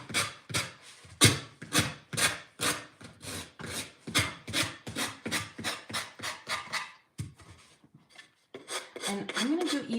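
Sandpaper rubs along wooden edges in quick repeated back-and-forth strokes, close and crisp, with a short pause before the rasping resumes less evenly.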